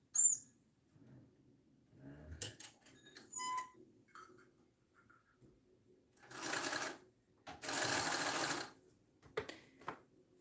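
Domestic sewing machine basting fabric pieces together for a bag, a few short faint stitching bursts, the longest near the end, in a quiet room.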